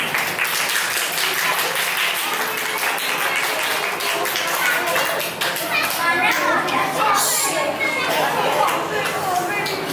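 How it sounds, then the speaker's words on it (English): Steady applause fills a school theme presentation, dense clapping from a large audience of students, with children's voices mixed in throughout and no break. "So let's have a big round of applause."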